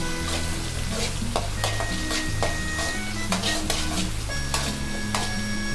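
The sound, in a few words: onions stir-frying on high flame for prawn noodles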